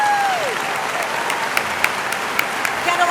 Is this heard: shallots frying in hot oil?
no